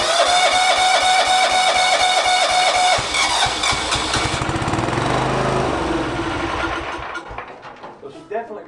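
Kawasaki FB460V small engine running loud and close with a steady harmonic drone, then faltering and sputtering toward a stop as its fuel supply fails near the end.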